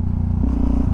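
A Yamaha XTX660 supermoto single-cylinder engine pulling at mid revs in second gear, a loud close low throb that rises in pitch partway through as the throttle opens.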